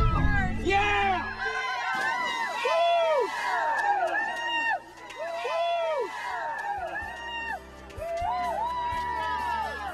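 A crowd cheers and whoops with excited, rising shouts, a dense hubbub of voices that carries on without a break.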